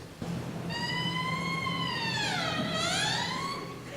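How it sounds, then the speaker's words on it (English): A bare oboe double reed blown on its own gives a buzzy, reedy squawk, held steady and then bending down and back up in pitch over a few seconds. "When she blows wind over the double reed, it vibrates and sounds like this."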